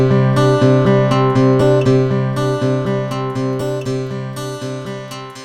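Music run through the Elysia Niveau filter plugin, its tilt centred around 4.5 kHz for a thin, bright top end, with a steady rhythmic pattern of repeating plucked notes and chords played alone at a constant level.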